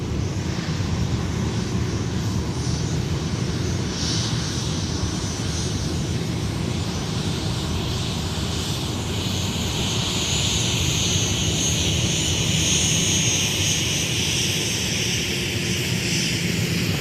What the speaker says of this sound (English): we're going to focus on the Sun Country aircraft because it looks like, yes, they are going to taxi on Mike.